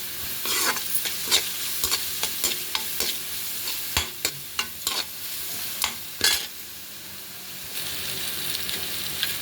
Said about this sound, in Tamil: இப்போ வெங்காயம் போட்டுட்டு அதுலேயே வந்து கொஞ்சம் மஞ்சத்தூள் அதிலே வதங்கட்டும்